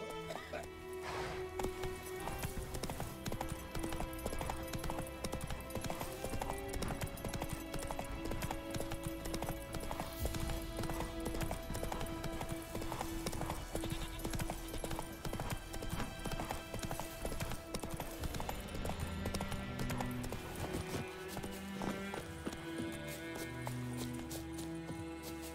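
Roach, the horse in The Witcher 3: Wild Hunt, galloping in a continuous rapid clip-clop of hooves, steady and fairly faint, with occasional speech mixed in.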